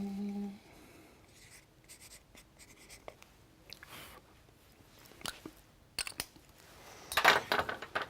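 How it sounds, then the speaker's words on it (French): A pen writing a note on a card, close and quiet: intermittent scratchy strokes and taps with short pauses, ending in a louder burst of scribbling, no talk. "Je vais noter ça sur la carte que tu t'es notée."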